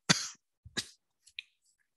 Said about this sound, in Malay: Saya batuk sikit